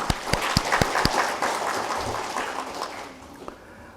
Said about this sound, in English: And a little round of applause for that.